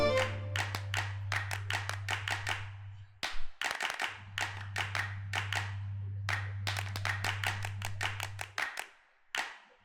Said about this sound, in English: With these claps.